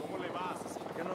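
A helicopter's steady rotor drone in Ghost Recon Wildlands fills the background while a voice talks over it, the engine noise continuous and fairly close throughout.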